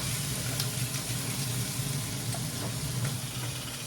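Tofu and paneer fry in a pan on a burner, giving a steady, fairly quiet sizzle under a continuous low hum of a kitchen fan, with occasional small pops.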